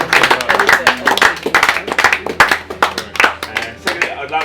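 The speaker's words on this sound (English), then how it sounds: "round of applause to you for being awesome" A tour group applauds on a tropical island outing, a lively burst of uneven hand clapping from a small crowd, near and steady, with a voice or two murmuring underneath.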